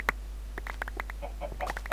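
Scattered short clucks and chirps from a flock of chickens in a video-game chicken bunker, quick and fairly faint over a low steady hum.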